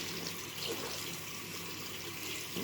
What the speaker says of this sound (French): Je vais rincer, j'arrive.